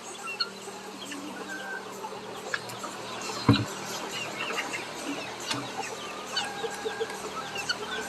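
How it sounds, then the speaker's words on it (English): White chickens and a guinea fowl mill about a farmyard in fall, giving soft scattered clucks and occasional sharp calls amid steady outdoor background noise, with one brief louder knock partway through. "We got a guinea right there, some white chickens, and then some of the other guys right up over there."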